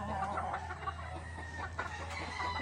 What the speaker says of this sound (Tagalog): Isang broodcock,